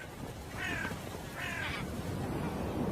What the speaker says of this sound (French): il est constamment accompagné d'un groupe de corbeaux